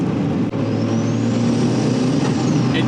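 A turbocharged NB Miata runs under steady, loud engine roar with a thin rising whistle of the turbo spooling up across the clip, heard close from inside the car.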